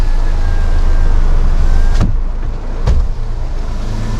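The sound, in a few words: car power window glass lowered and raised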